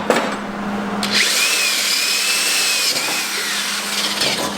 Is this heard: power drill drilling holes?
yes